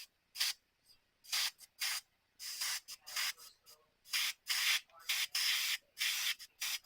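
Aerosol clear coat sprayed onto a car dashboard in short, rapid hissing bursts, close and loud, repeating with brief gaps and no talking.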